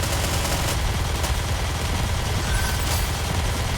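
Rapid gunfire from the video game Nikke, a loud continuous burst of automatic shots filling the whole stretch with no pause.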